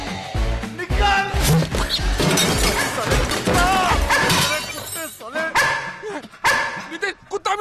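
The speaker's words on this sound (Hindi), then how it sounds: "नितिन कुत्ता मिल गया, कुत्ता मिल गया।" A dog barks in a comedy film scene from De Dana Dan, loud yelps mixed with frantic shouting voices and a sudden crash, all close and chaotic.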